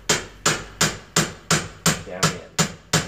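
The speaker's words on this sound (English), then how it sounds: "get this lined up right here, and you'll hammer it" A hammer drives a bicycle headset part down onto an e-bike fork, nine sharp evenly spaced strikes in a steady rhythm, close and loud, with no voices.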